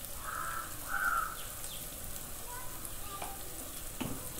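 Ground spices for a fish curry are stirred in a hot pan, a soft low sizzle with light scraping of the spoon, with faint crow caws in the background.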